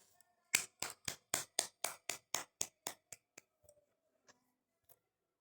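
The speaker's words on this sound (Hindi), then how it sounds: "फर्स्ट ऑफ ऑल तो सब अपने लिए ताली बजाएंगे" Hands clap together in a meditation session, about a dozen crisp, evenly spaced claps in a quick, steady rhythm that slows and fades into a few scattered last claps in a quiet room.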